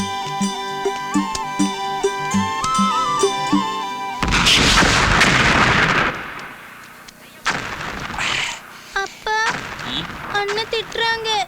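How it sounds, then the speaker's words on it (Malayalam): Kathina temple firecrackers go off in a loud, dense burst of blasts lasting about two seconds, right after a stretch of music, followed by scattered rougher bangs and noise. "നീ എന്തിനടാ ഈ കതിനാ വെടി കെട്ടിച്ചിരിക്കണം?"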